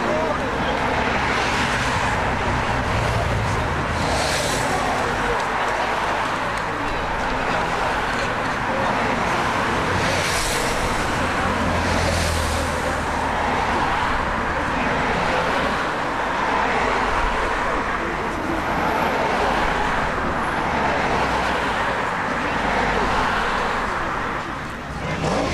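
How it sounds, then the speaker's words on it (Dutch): A long stream of cars following the Giro d'Italia riders through Soestdijk rolls past as a continuous traffic roar, with individual vehicles swelling and fading up close. People talk over the passing traffic. "In een paar seconden zijn 200 renners gepasseerd, gevolgd door een groot aantal auto's."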